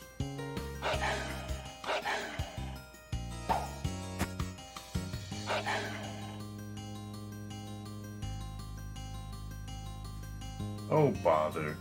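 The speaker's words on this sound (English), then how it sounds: "Dogs." Dogs barking in the video game Breath of Fire III, a run of short yips and bow-wows at moderate loudness, repeating in bursts over game music and sound effects, with a voice speaking briefly.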